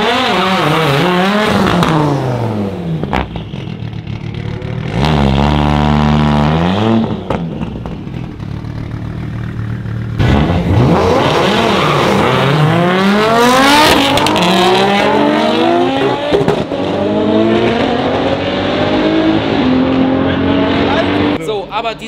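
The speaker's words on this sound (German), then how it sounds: "Und jetzt haben wir halt Straight Pipe nach hinten voll durch, hab den Endschalldämpfer abgeschraubt" A 1980s Audi 80 Quattro Typ 85 with a five-cylinder 20-valve turbo engine and straight-pipe exhaust, rear muffler removed, revs hard and loud in repeated rising and falling sweeps, with pauses between pulls and what sounds like the car passing close by.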